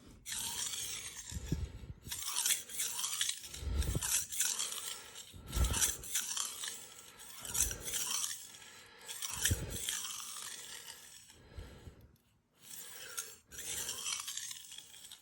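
A knife is drawn across a King 300 splash-and-go water stone in a steady series of rasping strokes, each about two seconds apart, with wet scraping that stays fairly quiet and close.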